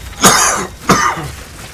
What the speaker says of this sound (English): I got to get something to silence my cough